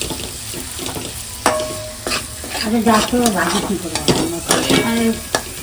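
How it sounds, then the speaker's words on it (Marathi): Prawns fry in hot oil while a utensil stirs them through the pan, giving a steady crackling sizzle broken by repeated scraping strokes and a few sharp clicks, close and fairly loud with no talking. "आता आपण जी सगळी जी कोलंबी तेलात टाकून घेतली"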